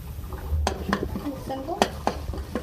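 Garlic frying lightly in a pan for a chicken spring roll filling, with a soft sizzle under sharp clinks and scrapes of a utensil stirring against the metal, several distinct taps spread across a few seconds.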